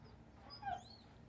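A dog gives a short, soft whine that rises and falls once, faint against a quiet background hum.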